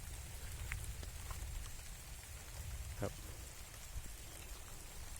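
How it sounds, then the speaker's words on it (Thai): Steady rain falling outdoors, a constant close hiss of drops with a few faint distant rumbles, while someone speaks briefly over it. "บรรยากาศฝนตกลิน"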